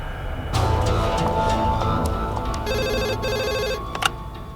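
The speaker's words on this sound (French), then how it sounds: "je vais appeler maman Sarla." A telephone rings in a domestic drama scene, with a repeated electronic ringing pattern that starts about midway, sounds close and clear, and plays over a background music bed without talk.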